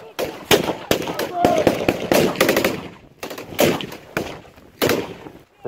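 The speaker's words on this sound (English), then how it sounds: "So live firing, why do we do live firing?" Rifle fire during British Army live-firing infantry training: repeated sharp gunshots in short bursts and single cracks, loud and close, with shouted voices between volleys.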